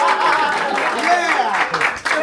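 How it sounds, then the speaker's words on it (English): Audience applause and cheering at a birthday party magic show for the magician's assistants, a short burst of clapping mixed with excited voices and chatter from a small crowd close by. "A round of applause for Diane and Nikki,"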